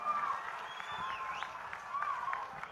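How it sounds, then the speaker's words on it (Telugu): Crowd clapping at an outdoor political rally in a village, a steady mid-level patter of many hands that holds for about three seconds without rising or falling much. "మరొకసారి గట్టిగా చప్పట్లతో అభిమానంగా తెలియజేయాలి"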